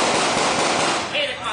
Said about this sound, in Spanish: Y más disparos de escopeta.